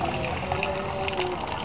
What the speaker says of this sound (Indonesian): kita buka keran ketiga